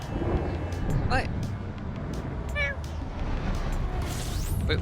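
A house cat gives two short meows close by, over a continuous low rumble of video game sound.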